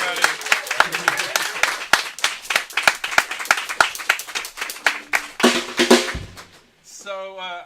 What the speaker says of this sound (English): Round of applause for Eric, everybody.